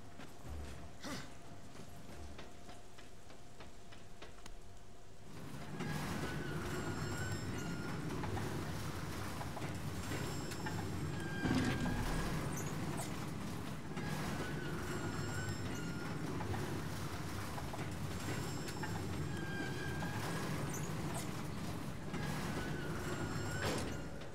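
A small railway wagon rolls along in Darksiders, a steady low rumble with metallic creaks and squeals that begins after a quieter mechanical start and continues evenly.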